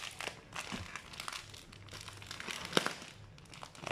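Kopi Lanang coffee bag packaging being handled and opened, with soft crinkling and rustling of the bag close by, a few sharper crackles and taps, including one crisp snap near the end, under a quiet room.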